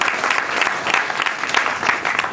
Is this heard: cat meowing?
no